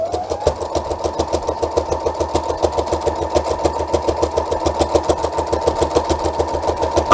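A sewing machine stitches fabric in a steady, fast mechanical rhythm, loud and close, running without a break for several seconds.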